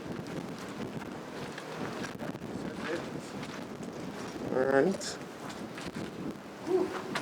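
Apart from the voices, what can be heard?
wind blowing on a windy day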